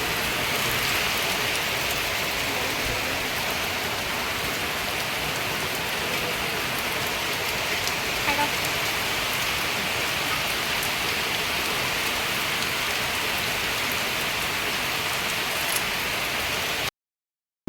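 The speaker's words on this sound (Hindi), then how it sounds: "एपटे वर्षा बहुत जोर देखते" Heavy rain pours steadily and loudly for the whole stretch, a dense unbroken hiss of drops on surfaces with no voices over it, ending abruptly.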